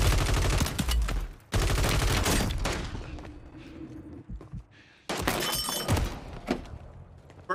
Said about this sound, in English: First fucking desk slam of the new year.